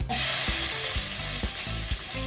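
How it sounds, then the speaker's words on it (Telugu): Onion, curry leaves and green chilies sizzle loudly in hot oil in a pan for an egg curry, a steady close frying hiss broken by a few soft stirring knocks. "కొంచెం కరివేపాకు కొంచెం పచ్చిమిర్చి వేసి ఇది కూడా ఫ్రై చేయాలి"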